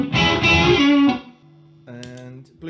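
An electric guitar plays sustained, slightly overdriven chords through a Two Rock tube amplifier, then softer ringing notes after a brief pause.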